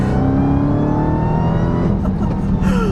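A 2021 Dodge Charger Hellcat Redeye with its 6.2-liter supercharged Hemi V8 accelerates hard on the road, a loud, continuous engine roar climbing steadily in pitch with no gaps.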